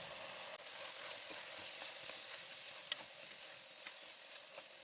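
Brinjal pieces fry in a pan with turmeric, salt and coriander powder, giving a steady, soft sizzle that runs evenly throughout with a few faint crackles and no talking.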